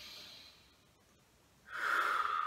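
During a gentle seated neck exercise, one person takes a slow, close breath in, a soft airy hiss that rises sharply near the end after a quieter exhale.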